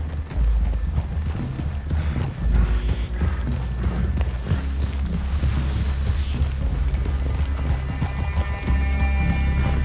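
Horses walk through a forest clearing in the Red Dead Redemption 2 game, a steady low clip-clop of hooves under a constant rumble, with no talk over it.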